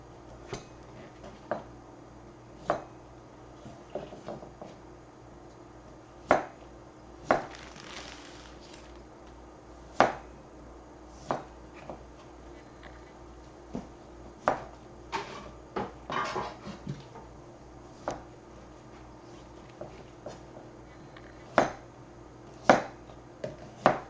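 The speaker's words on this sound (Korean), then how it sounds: "이 정도 크기의 물를 나박나박하게 썰어주겠습니다." A knife chops radish on a cutting board in a cooking class, giving sharp, irregular taps spread through the whole stretch over a quiet room hum.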